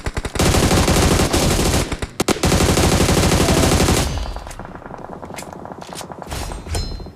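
Rapid automatic gunfire dominates a video game battle, loud sustained bursts for about four seconds, then fading into sparser distant shots and echoes.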